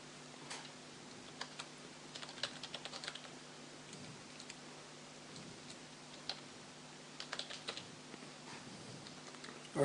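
Text is typed on a computer keyboard with quiet, fairly close key taps in uneven clusters over a low background hum, and no one speaks.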